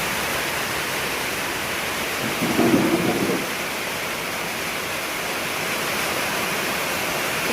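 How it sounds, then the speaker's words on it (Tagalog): Heavy rain pours down in a steady, dense roar, with a low rumble of thunder swelling briefly in the middle before the downpour continues alone. "Uulan, ang lakas ng ulan."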